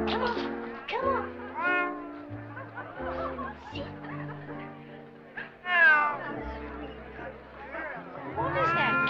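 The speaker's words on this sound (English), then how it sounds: "What is that cat doing in here" A cat meows repeatedly indoors, its rising and falling cries loud and close, overlapping lively talk and background voices.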